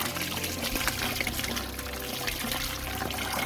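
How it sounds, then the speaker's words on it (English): Water from a hose steadily washes placer gravel and clay back into a bucket, a continuous close splashing and pouring rush with no pauses. "All right, we're gonna wash this back into the bucket."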